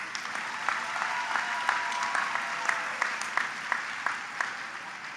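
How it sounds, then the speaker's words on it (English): The graduating class of 2024 at a spring commencement ceremony gets steady, dense applause from a large crowd. The clapping fills the hall and holds for several seconds, with individual claps popping out of the wash. "Give yourself a big round of applause."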